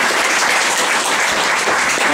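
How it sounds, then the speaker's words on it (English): A comedy science night crowd at Bright Club Glasgow applauds Jack, a loud, dense, even wash of clapping with no gaps, filling the room. "Can you give Jack a big round of applause,"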